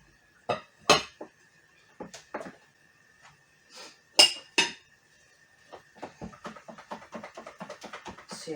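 Utensil scraping and clinking against a bowl while millet-flour pancake batter is mixed, irregular taps at first, then a quicker steady run of clicks, close up with no talking.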